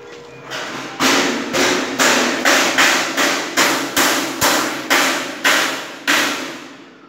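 Hammer blows while dismantling a mini corn sheller: about ten loud, evenly spaced metallic strikes roughly every half second, close and ringing, with no talk over them.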